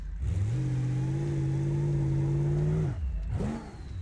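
A Chevy Apache truck with a modern Duramax 6.6 engine in BeamNG Drive revs and holds a steady high drone for a few seconds, drops off, then blips once more briefly.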